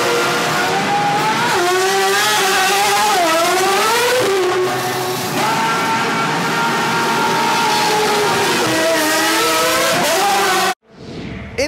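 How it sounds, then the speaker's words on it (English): A Ferrari Formula 1 car enters the pit lane during a double-stacked pit stop, its loud engine note whining and shifting pitch steadily for about ten seconds before cutting off abruptly. "Into the pits then comes the Ferrari of Charles Leclerc."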